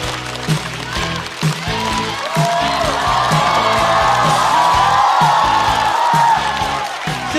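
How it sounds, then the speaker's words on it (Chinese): A live studio audience at a stand-up comedy show claps and cheers loudly, whoops and yells building over rhythmic thumping music, growing fuller toward the end as the comedian takes the stage. "掌声有请何广智"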